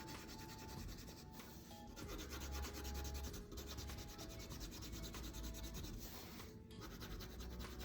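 A jade green colored pencil swept across paper in big strokes, making a steady, close scratchy rubbing that changes direction now and then, continuous and alone.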